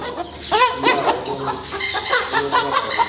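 Fancy chickens on a farm cluck and chatter close by in repeated bursts, several birds overlapping with short rising calls.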